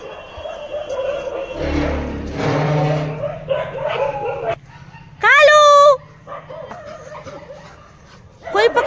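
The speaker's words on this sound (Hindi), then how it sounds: "इतनी 33 कुत्ते चिल्ला रहे, एक बार देखती हूँ जाके" Several dogs bark and yelp in a burst near the middle, followed by a high whimpering whine, with a voice talking over much of the clip and some household noise around it.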